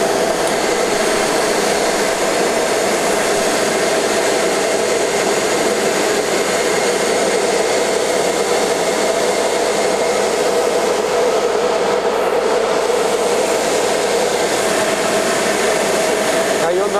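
Ruwac AV2000 air-powered vacuum with a 32-inch floor sweep tool, running at 100 PSI and picking up steel shot, a loud, constant roaring rush of air with a gritty hiss that never lets up.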